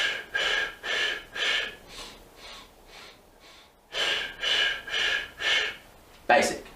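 A person demonstrates a running breathing technique, drawing air in through the nose and letting it out through the mouth, with a steady series of close, clear breaths and a sharper gasp at the end.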